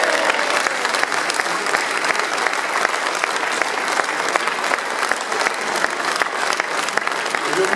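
Loud, sustained applause fills a council chamber in Paris's 15th arrondissement for former elected officials at the mayor's re-election, a dense, steady roar of clapping throughout.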